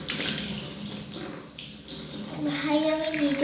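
Water splashes and runs as someone washes their face outdoors, a steady wet rush with a faint tonal whine near the end.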